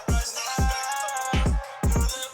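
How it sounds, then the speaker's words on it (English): Hip-hop beat with punchy kicks, ticking hi-hats, a snare and a vocal line, the booming kicks landing in a loose repeating pattern, loud and up close. "We have the kick, the hat, the kick, the snare, the hats, and the vocals."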